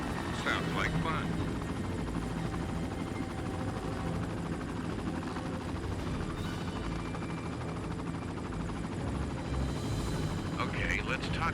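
A helicopter in the action video game Shadow Harvest: Phantom Ops drones with a dense, continuous rotor roar throughout, with voices talking over it.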